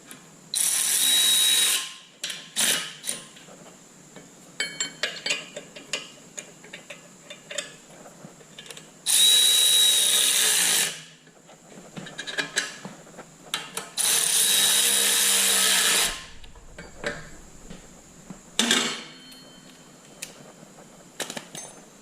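Impact driver or power tool running in three sustained bursts of roughly two seconds each, tightening nuts and bolts on a Kubota L3400 tractor during clutch adjustment, with clanks and rattles of parts between the bursts and no talk.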